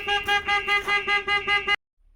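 A Starline S96 bespoke alarm on a 2025 Ford Transit Custom or VW Transporter van sounds its pre-warn after force on the body: a loud, close run of about seven rapid electronic pulsed tones, then abrupt silence.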